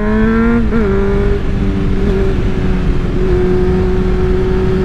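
Engine of a 2011 Honda CBR 600 F motorcycle revving loudly and steadily up close, with a brief rise and dip in pitch near the start before settling into a sustained high drone.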